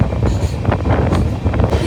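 Superfast express 22160 from Chennai Central to Mumbai CSMT rushes past at heavy speed, a loud continuous roar of wheels and wind with rhythmic rattling pulses.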